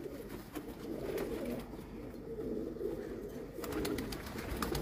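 Pet pigeons coo softly and repeatedly in the background, low and muffled, with faint clicks and handling noises over them.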